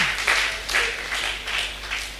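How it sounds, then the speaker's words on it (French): A church congregation applauding together, a steady wash of clapping with rhythmic swells, fairly close and continuous without voices standing out. "on acclame le Seigneur, on acclame, on acclame."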